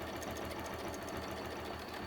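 A sewing machine stitches through fabric while quilting a painted pink lily design, its needle running in a steady, fast mechanical rhythm throughout, close and continuous with no talk.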